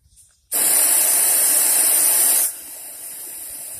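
Air hose blasting air through conduit into a coffee can forge, a loud, sudden steady hiss that drops to a quieter continuous rush after two seconds.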